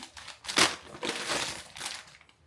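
Snack packets such as Oreo and Koala biscuits from a grocery haul crinkle and crackle up close in a few uneven bursts, then fade out.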